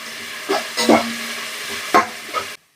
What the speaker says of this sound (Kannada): ಈರುಳ್ಳಿ ಮತ್ತೆ ಮೆಂತ್ಯ ಸೊಪ್ಪನ್ನ ಒಂದು ಅರ್ಧ ನಿಮಿಷ ಈ ರೀತಿ ಎಣ್ಣೆ ಜೊತೆನಲ್ಲೇ ಫ್ರೈ ಮಾಡ್ಕೊಳ್ಳೋಣ